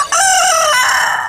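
A Golden Buff rooster at a bird market in Lalukhait, Karachi, gives one loud, close crow that rises and then holds a drawn-out call before fading, with no talking.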